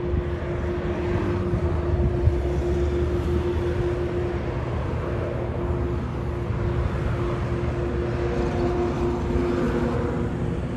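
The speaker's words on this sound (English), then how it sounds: "This is the Qantas A330 200 flying to Melbourne, QF 409 takeoff." Qantas Airbus A330-200 jet taking off at Sydney Airport, a steady powerful engine roar heard from a distance, continuous and broad, with no talk.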